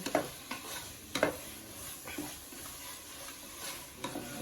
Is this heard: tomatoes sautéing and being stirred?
yes